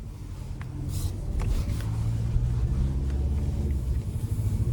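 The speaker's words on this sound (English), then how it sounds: "let's go ahead and take this 2025 Toyota Tacoma TRD off-road out on the road for a test drive." A 2025 Toyota Tacoma TRD Off-Road pickup drives on the road, heard from inside the cab as a steady low engine and road rumble with faint clicks above it.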